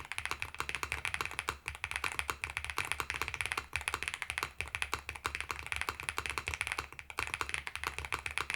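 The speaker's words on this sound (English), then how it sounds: "The spacebar is a bit harsh. I do think it's because these are polycarbonate keycaps." Rapid, steady clacking from typing on a stock AM Relic 80 mechanical keyboard fitted with polycarbonate keycaps, close and continuous with no talking.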